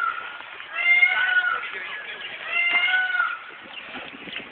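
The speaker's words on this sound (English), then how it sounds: "Yes, that was the sound of a peacock" Harsh, nasal wailing calls from a peacock, two drawn-out cries a second or so apart, then a fainter one, mid-distance and loud, with no one talking.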